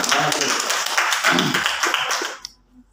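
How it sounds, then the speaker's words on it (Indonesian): An audience at a teachers' school-development workshop in Morowali applauds a speaker with dense, close clapping mixed with a few voices, then it cuts off abruptly into near silence. "Kita beri aplaus dulu kepada Pak Ipan."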